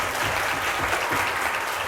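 A concert-lecture audience applauds a speaker after a talk, with dense, even clapping that fills the room at a steady level throughout.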